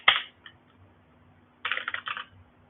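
Linux commands are tapped out on a computer keyboard: a lone keystroke, a brief gap, then a quick cluster of close, clicky presses.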